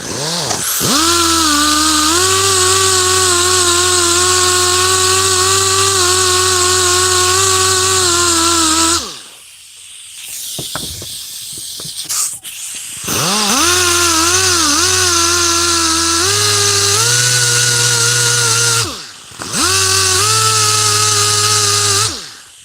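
Dremel rotary tool polishing, a loud, close, high whining buzz with shifting pitch as the bit loads and frees up, running in long bursts separated by brief pauses and stops.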